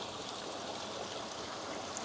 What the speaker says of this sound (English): I got water flowing, and it is flowing quite nicely.